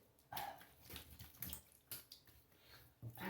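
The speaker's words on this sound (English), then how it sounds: "Let me rinse up, see how it went." Tap water splashing in bursts as a face is rinsed at a sink after a shave, with irregular close splashes and short gaps between them.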